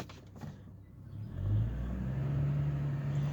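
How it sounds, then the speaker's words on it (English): A 2004 Chevrolet Trailblazer LS pulling away from a stop in second gear, its engine rising from a low rumble into a steady, strained drone that holds loud and close for the remaining seconds, with no talk. "it doesn't just take off as quick as it should, because it's starting off into second gear"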